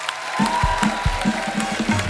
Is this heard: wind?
no